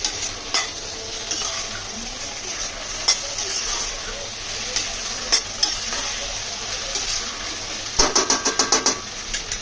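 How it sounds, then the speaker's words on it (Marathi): Tomatoes stirred into softened onions in a hot pan for chicken tandoori biryani, a steady sizzle broken by scraping spoon strokes and a quick burst of clattering taps near the end; no talk. "आता इथे कांदा पण नरम झालाय बघा. त्याच्यामध्ये मी टाकते टोमॅटो."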